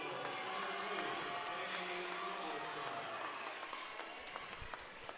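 A big crowd fills a high school gym at a basketball game at East Hamilton High School in Ooltewah, a sustained roar of applause and cheering that slowly fades, with a few sharp squeaks and thuds near the end.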